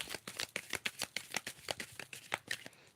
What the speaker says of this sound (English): I always got to finish shuffling the deck before I put it down.